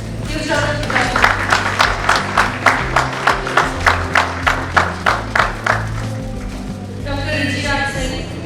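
Audience at a corporate summit panel event clapping for a guest receiving a bouquet, with sharp rhythmic claps in steady unison over a murmuring hall and background music, fading near the end.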